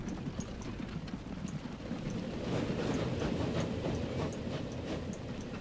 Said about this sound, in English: Those trains are going good.